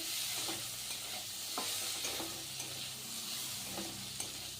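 A spoon stirs chicken filling with tomato ketchup in a frying pan, a steady sizzle running throughout under soft, irregular scrapes and clicks, close and fairly quiet with no talking.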